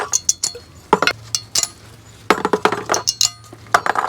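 Metal abutment retainer clips pried off a brake caliper bracket on a Mercedes-Benz Sprinter 2500 passenger van, giving close, bright metallic clinks and rattles in short bursts separated by brief pauses.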